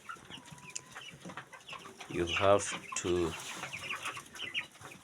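Farm chickens cluck in a few bursts, with two stronger calls near the middle, while a person talks briefly nearby.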